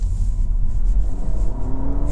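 A 2025 Honda Civic Sport Touring Hybrid accelerating hard in sport mode on electric motor power, a loud low rumble with a faint rising whine climbing underneath.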